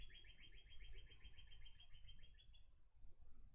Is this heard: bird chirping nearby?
yes